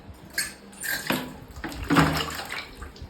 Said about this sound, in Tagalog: Isang tabong tubig. Pasok!